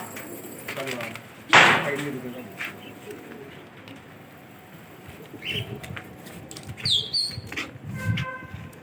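Pigeons coo softly in low repeated murmurs close by, with some fluttering and people talking at points.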